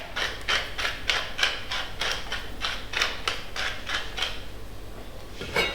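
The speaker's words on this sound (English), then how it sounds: "Good grind of pepper." A pepper grinder twisting over chicken pie filling, a quiet rhythmic series of crunchy grinding bursts, about a dozen evenly paced turns, close and alone.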